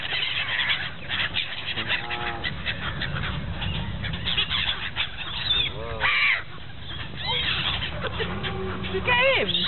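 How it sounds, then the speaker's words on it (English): Canada geese honk in scattered, overlapping calls at a moderate distance over a busy outdoor wash of background noise, with people talking at times. "There's millions of Canada geese here."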